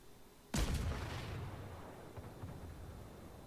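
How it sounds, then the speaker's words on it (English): A single heavy naval gun salvo booms in a World of Warships battle, a sudden deep blast followed by a long rumbling decay, with faint later thuds in the distance. "So I'm just going to keep shooting"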